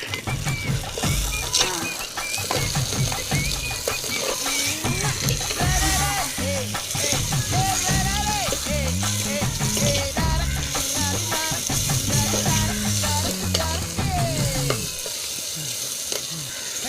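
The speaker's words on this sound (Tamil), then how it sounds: "2 பிடி கைப்பிடி தக்காளி போட்டு வதக்கிக்குவோம்." Tomatoes sautéing in a frying pan, giving a steady close sizzle with repeated scraping and clinking of a spoon stirring throughout, while music plays faintly underneath.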